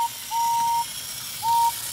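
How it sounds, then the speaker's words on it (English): A toy train engine's whistle sounds twice, a clear steady high tone held for about half a second, then a shorter blast after a pause, with faint hiss beneath and no talking. "They heard a whistle."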